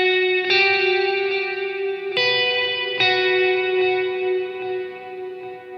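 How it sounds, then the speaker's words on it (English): A clean electric guitar plays a worship song intro through stacked effects pedals. Three chords are struck and each rings out in long, shimmering reverb and layered sustain, loud and alone with no talking. "So you can actually stack them together, and this is what the intro of Forever sounds like."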